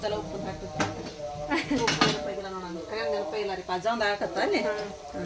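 A spoon stirs chili powder into gravy in a metal pot, making repeated scraping clinks and knocks at an irregular pace, close by, while people talk over it.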